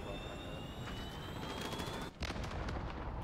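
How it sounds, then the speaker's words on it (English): A cruise missile strike in a video game, heard as a sustained roaring rush with a high whine that cuts off abruptly before a loud rumbling blast and crackling debris. "I'm gonna hit you with this cruise missile"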